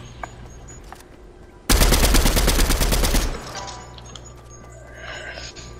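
Automatic gunfire in the Fortnite video game, a loud rapid burst lasting about a second and a half that stands out sharply above quieter game ambience, with a faint voice in the background.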